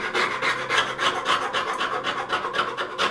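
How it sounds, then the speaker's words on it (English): Rust flakes are scrubbed off the steel blade of a Union transitional hand plane in a rapid, rhythmic back-and-forth rasp, close and fairly loud, about a dozen strokes with no voices. "I need to get all this rust flake off"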